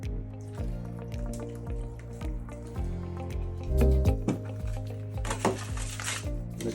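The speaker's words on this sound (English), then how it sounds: "Let's add in 12 more ounces of water." Water is poured onto a peat hydrocarbon absorbent, giving a steady liquid stream with dripping and squishing sounds, fairly close and with no talking.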